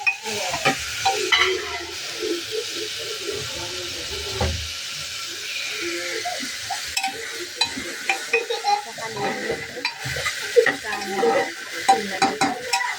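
Chopped capsicum stirred into hot tempering oil, a steady close sizzle with repeated spatula scrapes and stirring clatter, occasional quiet voices in the background.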